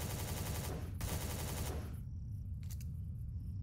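Rapid automatic gunfire in the Empyrion space game rattles in two dense, loud bursts aimed at golems, followed by a brief pause and a couple of faint trailing shots.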